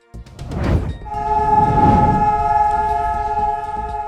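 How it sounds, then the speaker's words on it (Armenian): A nationwide air raid siren sounds in Israel for a two-minute standstill, not a rocket alert. It is a loud, steady, sustained tone with strong harmonics that holds evenly over some background rumble. "Իսրայելում հնչել է օդային ազդանշան"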